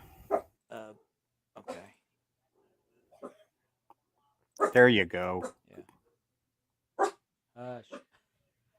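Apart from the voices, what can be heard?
dog barking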